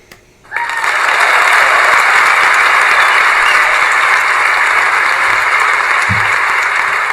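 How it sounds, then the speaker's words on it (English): A smart speaker plays a loud, continuous applause sound effect that starts suddenly and holds steady for several seconds, with a brief low thump near the end. "Hey Google, clap your hands."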